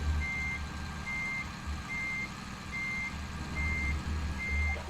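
A heavy truck reverses in the American Truck Simulator game, its backup alarm beeping evenly about every second, six beeps in all, over a low steady engine rumble with no talking.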